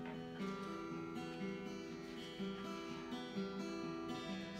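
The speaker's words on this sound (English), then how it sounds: "Finger picking is this. It's basically playing some really pretty pattern." Acoustic guitar finger-picked in a repeating, pretty arpeggio pattern, steady plucked notes ringing close and clear at a moderate level, with no talking.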